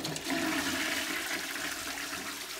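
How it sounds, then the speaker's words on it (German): Water streams into a scaled, dirty Geberit concealed toilet cistern as it slowly refills, a steady close hiss and gurgle with no voices. "Das Auffüllen dauert ewig."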